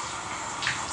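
Tap water running into a sink while someone wets their face, a steady soft hiss of flowing water with a slight splashy lift near the end.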